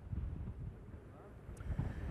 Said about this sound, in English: right now the winds are pretty good, gusting around 35 miles per hour